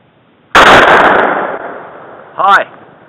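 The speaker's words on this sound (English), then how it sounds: "Check before you shoot. Then you can shoot." A single loud rifle shot from a WWII Russian M91 Mosin-Nagant fires outdoors, with a sharp crack and a decaying blast that rings on for about a second, followed by a brief voice.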